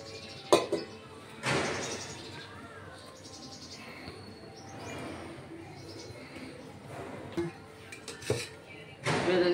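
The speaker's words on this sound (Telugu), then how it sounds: "ఇప్పుడు ఈ సామాన్లన్నీ కూడా బయట వేసుకుంటాను." Steel utensils, pots and pans being handled in a home kitchen after grinding vada batter, with scattered clanks and scrapes, a few sharp knocks near the end, close by.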